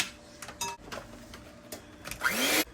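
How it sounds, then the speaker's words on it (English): An electric hand mixer whirs while whisking pudding mix into milk for a chocolate dump cake, a close mechanical buzz with uneven clatters that rises into a louder spinning whine at the end. "I'm going to use my mixer just because it's convenient."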